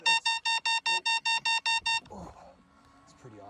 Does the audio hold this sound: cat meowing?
no